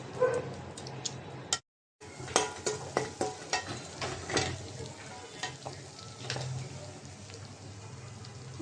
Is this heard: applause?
no